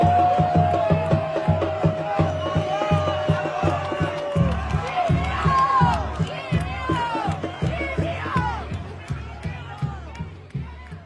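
Football supporters celebrate at the SESI stadium in Caxias do Sul, a crowd chanting and cheering to a steady rhythmic beat of drums or stamping, with voices rising and falling over the pulse.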